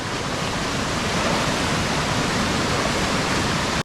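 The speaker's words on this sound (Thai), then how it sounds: "ที่น้ำไหลมาแบบนี้" Talea waterfall in Oudomxay, northern Laos, roaring steadily as a dense, loud, continuous wash of falling water, close and alone with no voices, cutting off abruptly at the very end.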